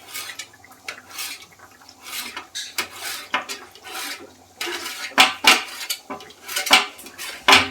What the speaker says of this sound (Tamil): கொத்தமல்லி கட் பண்ணுறேன்